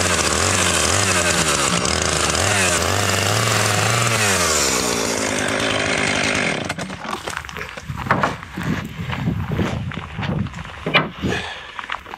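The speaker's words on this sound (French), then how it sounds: "je prends un chainsaw puis je les coupe en slab" A chainsaw runs loud and steady for several seconds while cutting logs into slabs, then drops off to rougher, uneven handling noise and thumps.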